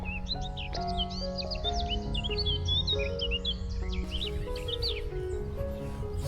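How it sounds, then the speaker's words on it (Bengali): Many small birds chirp and twitter continuously in mustard fields near a railway station in Kaligonj, Gazipur, bright overlapping calls above a low, steady rumble of outdoor background noise. "এখানে কিন্তু প্রচুর পাখি প্রচুর কিচিরমিচির শব্দ হচ্ছে"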